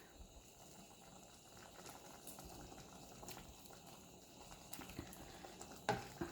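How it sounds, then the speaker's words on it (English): A pot of spicy tomato curry bubbling quietly on a stove, faint soft popping and gurgling throughout, with a light clink near the end. "If everything is okay, just allow it to boil nicely."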